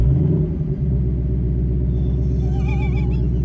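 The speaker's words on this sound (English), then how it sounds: "It's the first time I have heard this car with this X-pipe on." A 2018 Mustang GT V8 with an X-pipe and resonator delete idles in a deep, loud, pulsing rumble up close, steady throughout with no voices.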